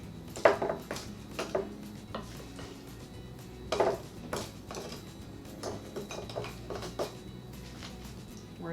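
Glass jars being filled with mashed cabbage for sauerkraut juice, giving scattered clinks and knocks of glass and utensils against a quiet kitchen background, with a few sharper taps standing out.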